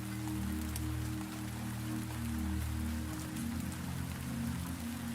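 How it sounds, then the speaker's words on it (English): Gentle rain falls steadily outside a greenhouse at midnight, a soft continuous patter with a low background hum, unbroken and without voices. "Behind you, the rain continues its gentle song."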